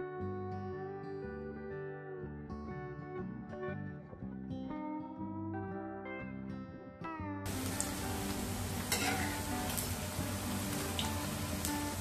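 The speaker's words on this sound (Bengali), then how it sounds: "প্রথম ব্যাচটা ভাজতে একটু সময় লাগে, তারপরে এগুলো আবার হয়ে যায়।" Sabudana tikki frying in a pan: a tonal musical passage plays first, then a dense, steady sizzle with bursts of crackle takes over and holds loud until the end.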